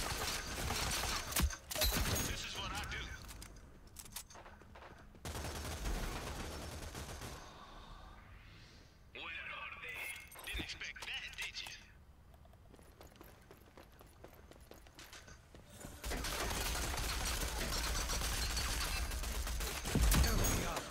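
Gunfire from the video game Rogue Company, bursts of shots in several loud stretches separated by quieter passages, with a player's voice occasionally audible.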